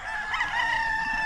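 A rooster crows at a gamefowl farm where broodcocks and broodstags are kept, a loud, close, sustained call with strong harmonic bands, heard alone with no voices.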